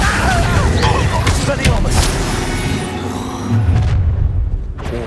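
An Incendio fire spell in Hogwarts Legacy roars through loud combat, a sustained booming, crackling blast that fades toward a quieter tail with a couple of sharp bursts near the end.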